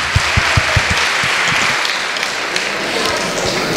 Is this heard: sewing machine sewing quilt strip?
no